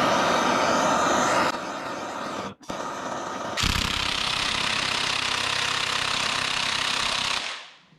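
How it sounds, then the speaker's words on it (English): A gas torch roars steadily while heating a tight, stuck bolt during a Jeep Wrangler LS engine swap, loud and close, with a brief break midway and a louder, harsher stretch afterward before it cuts off. "I've been heating it up with some gas."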